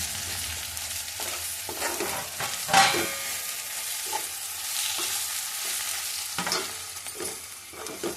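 Onions and masala frying in a pan for a fish pulusu, a steady close sizzle with repeated scraping stirs of a spoon against the pan.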